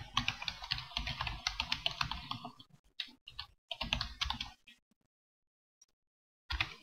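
Rapid typing on a computer keyboard, dense clicking keystrokes for about two and a half seconds, then scattered taps and pauses before a short final burst, close and fairly quiet.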